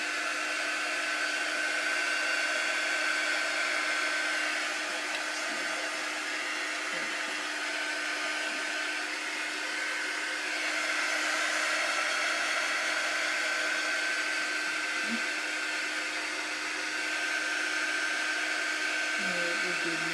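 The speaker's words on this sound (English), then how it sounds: "You can go ahead and keep blow drying it." A blow dryer drones steadily and continuously, drying ink on a T-shirt at close range, a constant whooshing hum at moderate level with faint handling noises underneath.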